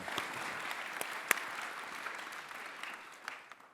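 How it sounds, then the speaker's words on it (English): Audience applause from a conference panel crowd, a steady even patter of many hands clapping throughout with a few sharper claps standing out, moderately distant. "So please give them another round of applause."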